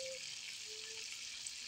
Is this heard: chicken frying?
yes